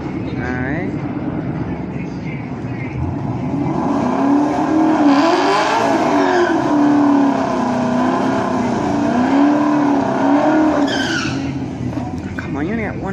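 A drag race car sits at US 46 Dragway and spins one rear wheel, its engine rumbling steadily with a wavering, rising and falling whine. A voice speaks briefly over the noise.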